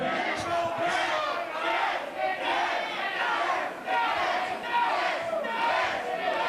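A wrestling crowd at a pro wrestling show chants and shouts in unison, loud and steady, with repeated rhythmic swells of many voices filling the hall for several seconds.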